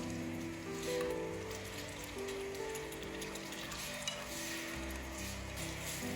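A hotpot base and pickled chilies are stir-fried in a pot at an outdoor camp in wind and snow, making a steady close sizzle and rustle over a humming background tone, with no talk.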